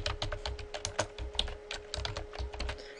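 Rapid, close keystrokes rattle on a computer keyboard in an irregular, continuous stream of sharp clicks, with no voices over them.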